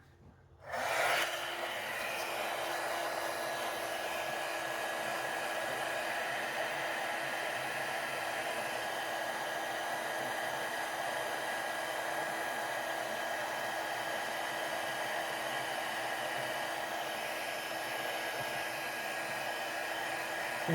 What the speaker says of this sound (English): here we go with the heat gun